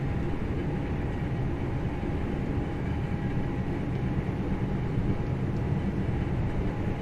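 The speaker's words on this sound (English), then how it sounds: "So to watch the train going past, we click 4 on our keyboard" A train passing in a train driving simulator game on the Birmingham Cross City Line, a steady loud rumble and roar with a faint whine, continuous and unbroken without talk.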